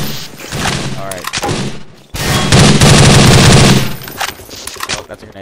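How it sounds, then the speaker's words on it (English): Half-Life 2 combat with rapid loud gunfire bursts and a heavy blast, dense and close, broken by a brief drop and then a sustained barrage, with a player talking over it. "Oh, that's a grenade."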